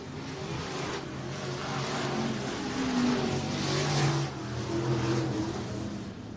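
Race cars lap Sunset Speedway Park in Banks, Oregon, a continuous engine roar that swells and revs as cars pass at a distance, steady and loud throughout with no voices.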